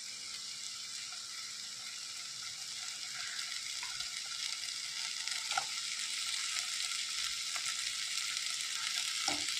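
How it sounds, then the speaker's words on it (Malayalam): Spices and cut potatoes fry in a pan for a Kerala egg curry, giving a continuous soft sizzle that grows slightly louder, with scattered spatula clicks and scrapes, close and fairly quiet. "നന്നായിട്ട് വഴറ്റി കൊടുക്കാം."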